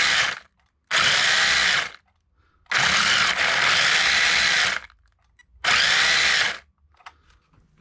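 A small electric motor of a WLtoys 144001 RC car whines at high pitch at top speed in three loud bursts, each running a second or more, separated by short silences.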